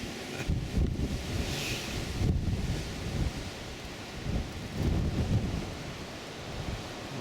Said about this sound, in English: Cold wind blowing across.